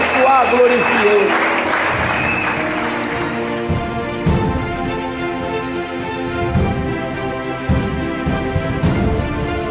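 A church congregation claps in praise of the Lord, steady applause mixed with sung or played music and voices, fairly loud and continuous throughout.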